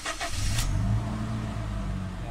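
A Toyota Innova engine cranks briefly and catches, then settles into a steady, loud idle close by, running continuously with no voices.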